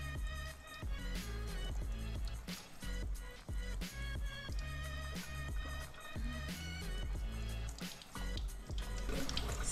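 Oxygenated alkaline water fizzes and bubbles steadily, a dense, close stream of popping and dripping liquid sounds that continues without pause.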